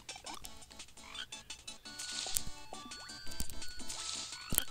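A cartoonish frog croaks in a video game level, with repeated croaks over bright, busy game music and effects, fairly loud and without talk.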